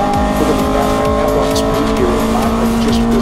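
Race cars at Queensland Raceway in an improved production race, several engines droning and whining loudly together as they pass, with tyre noise and a commentator talking over the racket.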